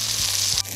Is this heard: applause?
no